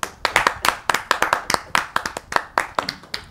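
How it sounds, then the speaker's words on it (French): Rhythmic group clapping from an audience at a lively club show, with sharp, evenly spaced claps in a steady beat, close and loud throughout. "Applaudissez bien."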